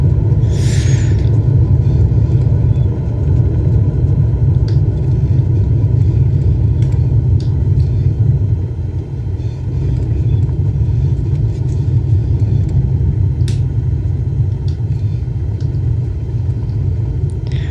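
An aircraft rolls out on the runway after an ILS landing in a flight simulator with the throttle cut, giving a loud, steady low rumble and roar that holds evenly throughout, with faint clicks on top.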